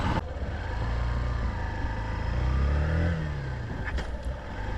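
A Honda Shine 100 DX motorcycle engine hums on a test ride, a steady mid-pitched drone with a rise in revs partway through, loud and close amid road and wind noise.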